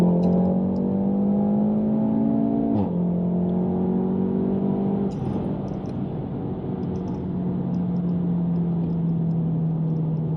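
A 2018 Volkswagen Golf R MK7.5 hatchback with four-wheel drive accelerating hard in race mode: loud, close engine drone rising steadily in pitch, a brief dip at a gear change, then climbing again through the next gear.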